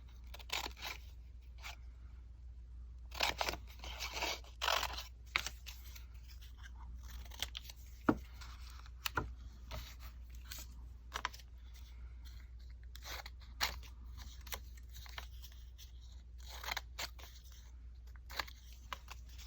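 Scissors snipping through paper and magazine cuttings for a collage journal, a quiet series of short crisp snips and crunches, irregular and close, over a low steady background hum.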